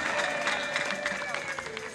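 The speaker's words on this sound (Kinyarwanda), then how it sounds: "Reka dukomere Imana amashyi menshi cyane" A church congregation claps together in a dense, rhythmic wash of applause, with voices mixed in and a sustained vocal tone running beneath.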